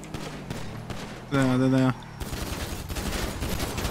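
Bursts of video-game gunfire in a roleplay chase, sharp repeated shots under a brief spoken word and a sustained tone, with crackling shots continuing in the background.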